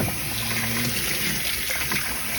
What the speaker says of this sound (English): Drop them in some hot water.